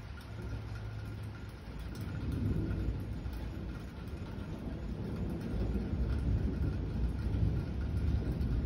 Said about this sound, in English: I have not seen lightning this strong in like years.